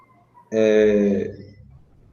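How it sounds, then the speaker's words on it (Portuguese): A person whistles a single sustained note of under a second, clear and fairly loud, then it fades into quiet background noise. "Quem é que está assobiando?"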